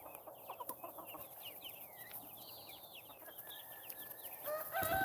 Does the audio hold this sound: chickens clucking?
yes